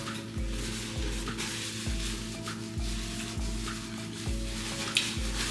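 Ground beef frying in a pan for tacos, a continuous soft crackling sizzle with a low regular thumping pulse in the background, fairly quiet and steady with no talk.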